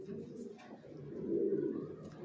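Grizzle racer pigeons of Johnson bloodline coo nearby, a low throaty rolling call that swells in the middle and then continues softly.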